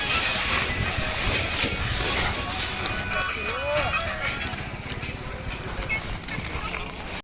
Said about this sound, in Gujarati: આ વિડીયો બહુ વાયરો છે.